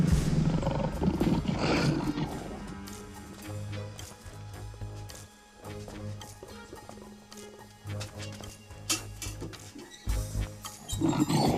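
An eight-year-old African lion roaring, deep rough growls and roars rising and falling across the stretch, loud and close with brief pauses between bursts.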